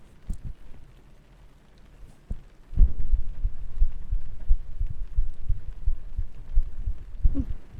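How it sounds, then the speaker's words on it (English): Muffled heartbeat picked up through a binaural microphone, a slow steady series of soft low thumps that becomes clearer and louder after a quiet opening stretch. "My heartbeat is actually not as fast as it usually is."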